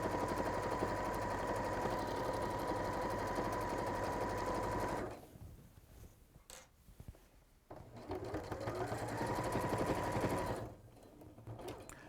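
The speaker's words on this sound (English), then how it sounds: "You're just machining like a 1/4 inch in from the edge." Sewing machine top-stitching quilt fabric a quarter inch from the edge, a fast steady mechanical whir that stops briefly in the middle and then resumes, with short pauses and no talk.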